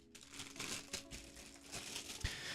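Plastic parts bag for a Star Wars BD-1 model kit crinkling as it is handled, a close, continuous rustle with scattered sharper crackles and one brief thump near the end.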